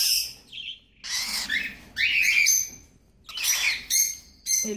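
Cockatiel and budgies chirping in close, loud bursts of squawky calls and tweets, several overlapping phrases separated by brief pauses, with no talk.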